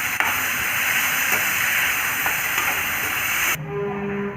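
Three large onions sizzling in hot oil in a pan for country chicken kurma, a steady loud hissing fry that runs unbroken for several seconds before cutting off abruptly near the end.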